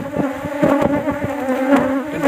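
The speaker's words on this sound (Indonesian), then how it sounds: "di sini untuk lebah masih nyerangnya di jaket tuh" A swarm of bees buzzes angrily while attacking a jacket, a dense, close, continuous drone with wingbeat pulses rising and falling and no voices.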